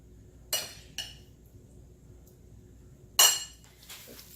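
A spoon clinks sharply against a bowl while stuffed hamburger filling is mixed: a few isolated, bright taps spread out with quiet gaps between, close by and with no talking.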